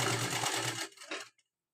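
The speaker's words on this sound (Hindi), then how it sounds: "तो यहाँ से सिलाई करेंगे हम।" A sewing machine stitches blouse fabric in a short, fast burst of rapid mechanical chatter, close and fairly loud, slowing with a couple of final clicks before stopping.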